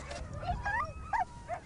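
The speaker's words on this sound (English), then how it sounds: "The dogs are hungry, so I have to be a little bit careful not to get bitten." A hungry, very skinny stray dog whimpers and yips in short, high, whining cries, a few separate bursts heard close by against a low background rumble.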